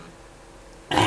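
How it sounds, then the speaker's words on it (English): A single short throat clear at the very end, after near silence, close and fairly loud. "gotta clear my throat"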